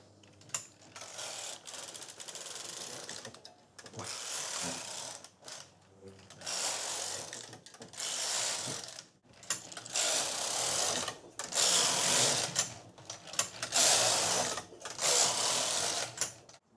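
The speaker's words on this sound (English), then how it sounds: "So I need to knit 49 rows." A knitting machine works rows on a sweater body, each pass a loud close ratcheting, clattering sweep of several seconds, repeated about six times with brief pauses between carriage runs.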